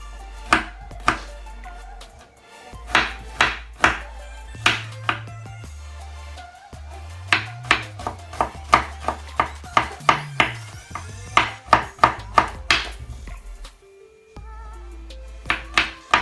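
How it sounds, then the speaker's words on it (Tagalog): Peeled garlic cloves being chopped with a knife on a cutting board, sharp close knocks in uneven bursts, first spaced then quicker runs of rapid strokes, over a steady background hum with music-like tones. "peel it and chop into small pieces or mince it"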